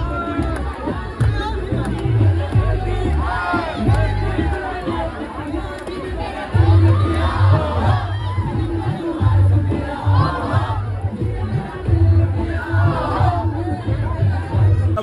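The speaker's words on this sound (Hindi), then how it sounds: "आज बहुत ज़्यादा भीड़ है, क्योंकि ईद का चौथा दिन है" Crowd at Nicco Park amusement park in Kolkata on the fourth day of Eid, a dense, continuous hubbub of many voices with scattered shouts, close and loud throughout.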